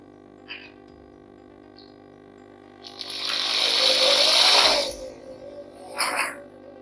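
A sewing machine runs a continuous burst of about two seconds while stitching a facing seam along a folded edge in a basic tailoring class, with a few brief clicks of handling before and after the run.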